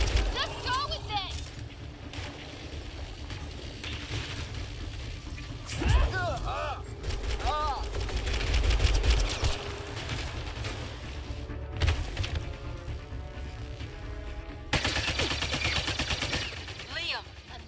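Sustained rapid gunfire in the video game Mass Effect: Andromeda, bursts of shots and blasts running through the clip with louder surges, mixed with game music and voices talking over the fighting.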